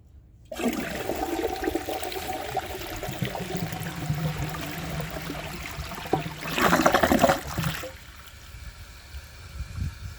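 A 2000 Universal-Rundle Atlas open rim toilet flushes nearby: a sudden rushing gush of water, a louder surge toward the end of the flush, then a quieter trickle as the bowl refills.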